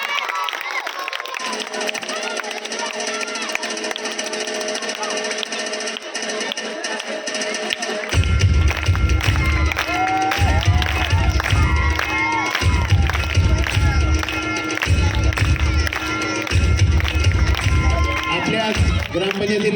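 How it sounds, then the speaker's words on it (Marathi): A crowd at a village school's annual function claps loudly in a long, dense spell, with a steady low rhythmic pounding joining partway through and voices and shouts mixed in. "एकदा जोरदार टाळ्या वाजवा"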